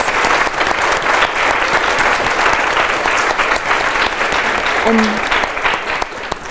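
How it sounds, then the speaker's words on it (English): A forum audience claps loudly and steadily in a hall for several seconds, a dense, close wash of applause that thins slightly at the end, with a brief voice underneath. "Please give us one final round of applause."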